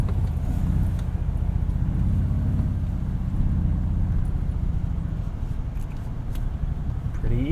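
A 2022 Toyota Tundra TRD Pro with a 3.5-liter turbocharged engine driving over sand off-road, a loud steady low engine drone with rumbling road noise close by, no talk.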